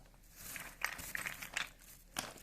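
A plastic shopping bag of plumbing fittings crinkles in short, close rustling bursts, with a few sharper crackles as it is handled in an otherwise quiet room.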